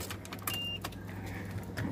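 A Mahindra Scorpio SUV being switched on, heard from inside as a steady low engine hum with one short electronic beep near the start, then a soft click toward the end.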